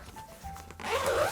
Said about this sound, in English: you just open it up, zip it up